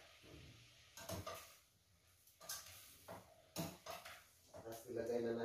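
Sea shells and crab are stirred in a cooking pot, giving clattering, scraping knocks in irregular bursts, with quiet talk and faint kitchen sounds between them.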